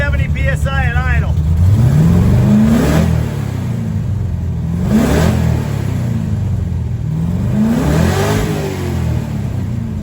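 A Plymouth Barracuda engine idles loudly up close, then revs three times in succession, each sweep climbing in pitch and falling back to a rough idle, with a voice talking over the start.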